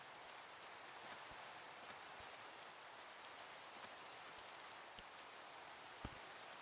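Rain falls steadily outdoors, a dense even hiss with scattered close drops tapping on a surface throughout.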